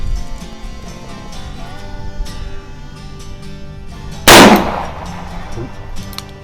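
A single loud gunshot from a 1908 Smith & Wesson model 1905 revision 2 .38 Special revolver, fired outdoors at a target, rings out sharply and decays, with steady background noise before it.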